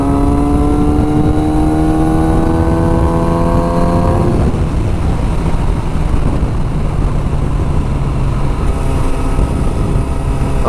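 A Kawasaki motorcycle fitted with lowering links and bar riser spacers accelerates in sixth gear; the engine note climbs steadily, then gives way to loud, rushing wind noise.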